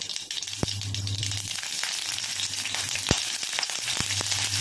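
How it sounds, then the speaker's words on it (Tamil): Mustard seeds spluttering in hot oil while cooking palak keerai kootu, a dense continuous sizzle with sharp scattered pops, close and steady. "கடுகு கொஞ்சம் போட்டுருவோம்"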